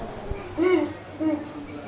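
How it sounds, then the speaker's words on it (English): An owl hoots twice, spaced about half a second apart, soft and fairly close, near the Rivers of America at Disney World. "Ooh, oh, there's an owl."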